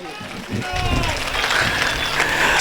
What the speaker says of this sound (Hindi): एक बार जोरदार तालियां बजाकर मुझे आशीष दीजिए।